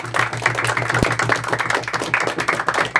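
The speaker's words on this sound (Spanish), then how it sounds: "un aplauso bien fuerte" Steady clapping from guests at a birthday party with a mariachi band, a brisk continuous patter of many hands over a low hum, close and fairly loud for about three seconds.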